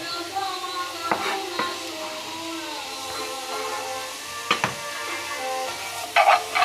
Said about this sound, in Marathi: ओके, आतां तेल गरम जालां, आतां पियाव घालता